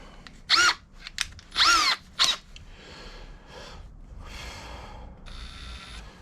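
A cordless drill with an 8mm spanner fitted runs slowly while kitting out a Seapro 310 HD inflatable boat. Three short, loud whirring bursts come first, followed by quieter, softer spinning and faint mechanical hum.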